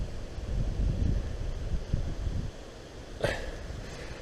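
Wind blowing steadily across an open hillside during a wild camp on Woden Law, a continuous low rumbling buffet with gusts that ease off partway, plus a brief rustle near the end.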